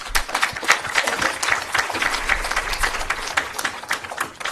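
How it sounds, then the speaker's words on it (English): Audience applause at an upstream petroleum local content policy consultation meeting in Namibia: steady, dense clapping from a room full of people, sustained evenly throughout without a break. "Let us give her an applause"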